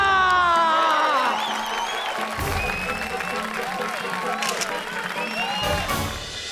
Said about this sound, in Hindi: तो बजाइए अमृतलाल डगली जी के लिए तालियां।